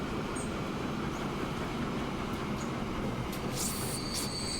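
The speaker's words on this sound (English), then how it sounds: "And our copper train is pulling into the station." A copper ore freight train in Transport Fever 2 rolls steadily into a station, giving a continuous low rumble of wheels and wagons with a few faint high squeals and clanks near the end, no voices.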